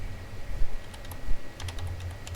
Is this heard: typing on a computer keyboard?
yes